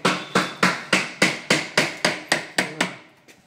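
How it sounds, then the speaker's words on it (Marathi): A hammer strikes metal or wood while a gate is being installed, giving about ten evenly spaced, sharp, close blows in a steady rhythm with no talking. "इथे फाटक बसवण्याचं काम चालू आहे"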